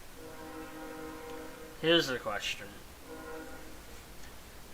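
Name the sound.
passing train and train horn outside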